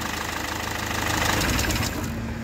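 A car engine idles with its EGR valve working, giving a loud, close, steady mechanical drone with an even knocking pulse and vibration throughout.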